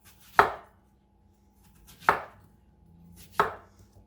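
Three sharp chops of a big knife cutting through apples for a sugar-free apple pie, evenly spaced and close, alone with no talk.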